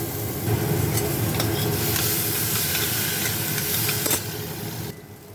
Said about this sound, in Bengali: আমটা দিয়ে ভাজার সময় একটু নুন আর হলুদও দিয়ে দেবো এবং খানিকটা নেড়ে এরপরে ডালটা দিয়ে ভেজে নেব